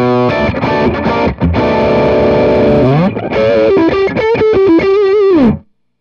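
A Kingsley ToneBaron overdrive pedal driven through a guitar amp with bass and treble turned up, loud distorted chords ringing out, then sliding notes and choppy stabs before a sudden stop.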